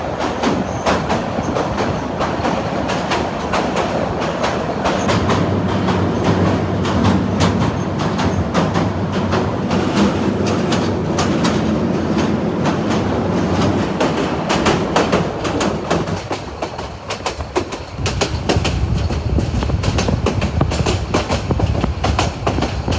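Parjatak Express passenger train crossing the Bhairab railway bridge between Dhaka and Comilla, a loud continuous rumble of wheels and rattling cars heard from on board, with a heavier low-pitched drone partway through and no talk.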